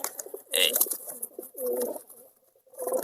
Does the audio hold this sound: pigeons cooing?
yes